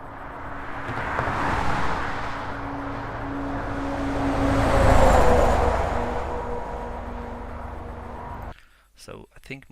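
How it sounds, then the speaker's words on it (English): A heavy goods vehicle passes on a road, a broad rumbling swell of engine and tyre noise that builds to a loud peak midway and then fades, ending in near quiet with a few faint knocks. "That happens to be a truck pass by."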